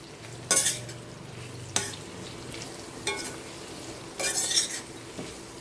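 Okra and potato curry with garlic paste and green chili being stirred in a pan, several distinct scraping strokes of a spoon against the metal, close and intermittent, over a low background hiss.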